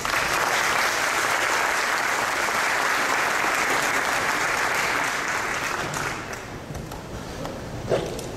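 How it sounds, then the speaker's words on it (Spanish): An audience at a keynote lecture in Guatemala claps steadily. The applause is full and sustained, then thins toward the end with a few scattered claps and a thump. "Un aplauso."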